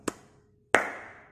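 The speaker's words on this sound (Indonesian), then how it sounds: "Kita tepuk pelan" Two hand claps near a LEGO Mindstorms NXT robot's sound sensor, a small sharp clap followed after a pause by a louder one with a brief ringing tail, in a quiet room.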